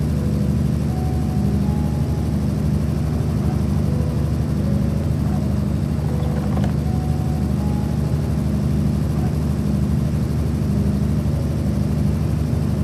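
Airship engine in the video game Everwind drones continuously at a loud, steady level, a low propeller-like hum with faint tonal whines over it and one brief click midway.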